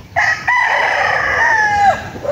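A gamefowl stag crows once, loud and close, a full rising-then-falling cock-a-doodle-doo lasting nearly two seconds over a quiet yard.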